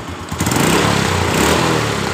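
Honda Revo Absolut motorcycle engine idling with a rough, metallic rattle: a loud, close, steady chugging rumble with a harsh clattering edge that runs without a break and has no voices over it.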